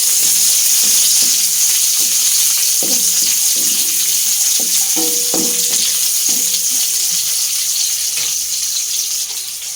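Garlic and onion sizzle steadily in a hot pan for ginisang sayote, a loud, continuous crackling hiss with occasional stirring clicks and no talking.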